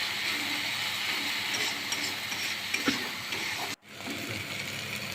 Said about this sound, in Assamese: এইখিনি ভালদৰে ভাজিব লাগিব। কিছু সময় আমি এনেকৈ লৰাই থাকিব লাগিব,